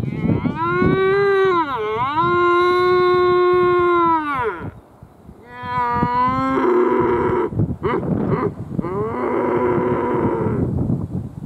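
A wapiti stag roaring during the rut in Fiordland: a long, loud, wavering bellow, then after a short pause a second series of strained, harsh roaring calls, close and strong.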